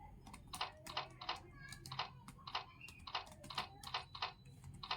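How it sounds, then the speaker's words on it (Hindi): Rapid, irregular clicking of keystrokes on a computer keyboard while practicing in a typing tutor app, close and steady for the whole stretch with faint background murmur. "यहाँ पे पैराग्राफ टाइपिंग कर सकते हो।"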